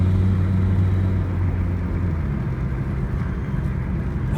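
A 1988 Toyota Corolla with a new carburetor drives along, its engine giving a steady, loud low rumble throughout with no talking.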